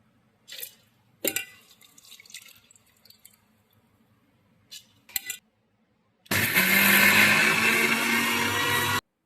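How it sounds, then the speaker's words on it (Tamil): A few scattered clatters and drips come first, then a mixer grinder starts grinding soaked urad dal, a loud, steady whirring roar that runs for the last few seconds. "மிக்சி சாரில் போட்டு ஆட்டிக்கலாம்"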